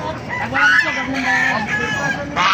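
Chickens cluck and squawk in a busy chorus, with a rooster-like call among them, fairly close and continuous throughout, at a market in Baliuag.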